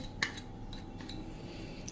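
A metal spoon clinks sharply once against a bowl while turmeric is added to a methi pickle spice mix, followed by a few softer taps, quiet and close.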